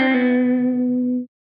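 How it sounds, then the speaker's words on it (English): Electric guitar phrase from a song with a hammer-on, pull-off and slide, one sustained ringing note with effects that fades out after about a second. "Then a little hammer-on pull-off slide."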